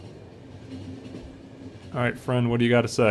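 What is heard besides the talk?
train departing in The Final Station video game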